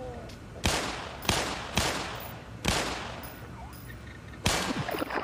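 Gunfire in the Black Mesa video game, five sharp, loud shots spaced about a second apart with low rumbling ambience between, no talk.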